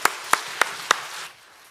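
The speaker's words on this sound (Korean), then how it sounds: "우리 환영의 박수 올려드리겠습니다" A few sharp, evenly spaced claps ring out four times in a church service as a pastor is welcomed, fading to quiet room tone afterward.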